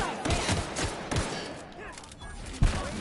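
Rapid bursts of gunfire crackle in the video game The Outer Worlds, a quick string of sharp shots followed by scattered thuds and one final loud shot.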